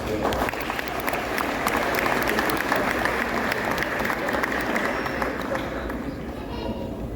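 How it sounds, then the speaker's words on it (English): An audience at a high school athletic banquet gives a round of applause, with dense, sustained clapping throughout, fading slightly toward the end, and voices heard beneath it. "so we want to give him a round of applause"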